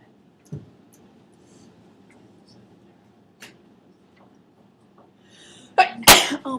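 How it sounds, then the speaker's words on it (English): A single loud sneeze bursts out near the end, close and sharp, after a quiet room with a few soft clicks and taps. "I've been sneezing all day."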